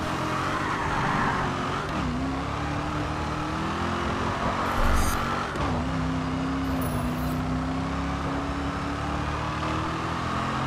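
A race car in the driving game GRID 2 roars at high revs while its tires squeal and skid through a spin, the engine loud and close with a brief sliding screech in the middle.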